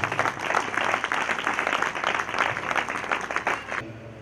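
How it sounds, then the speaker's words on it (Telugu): A church congregation claps enthusiastically in sustained applause welcoming a preacher for a few seconds before it cuts off abruptly. "చప్పట్లు కొట్టి వారిని ఆహ్వానించారు"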